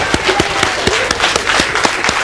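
An audience claps in a loose, uneven patter of distinct hand claps, fairly close and moderately loud, with faint voices murmuring underneath.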